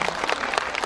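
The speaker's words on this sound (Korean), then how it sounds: "감독님에게 박수 부탁드립니다" An audience at a cinema talk event at Megabox COEX applauds the film's director, a short burst of dense, steady clapping from a crowd.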